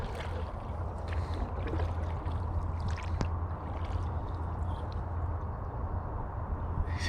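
Paddle strokes pulling a small boat through water, soft swishing and splashing close by in an uneven rhythm over a low steady rumble, with a brief knock partway through.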